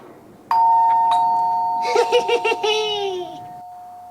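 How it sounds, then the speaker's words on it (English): A doorbell rings once with a clear electronic tone and sustained chime, followed by a child's giggling laughter over the fading ring. "I'm going to press the bell, and when he comes, no one's going to be here."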